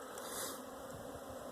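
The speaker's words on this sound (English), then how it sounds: "to hear these bees flying again" Honey bees fly around beehives in the warm sun at the start of the season, a steady, dense buzzing drone that fills the whole stretch without any talk.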